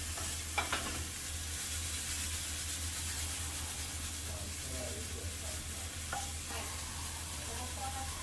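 Food in tomato sauce sizzles and fries in a pan while being stirred, a steady soft hiss with occasional scraping clicks from the utensil, close and fairly quiet, with no voices.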